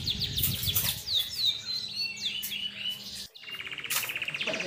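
An AF Super canary singing up close, rapid bright chirps and sweeping trills in quick bursts, with a short pause before another fast trilling run.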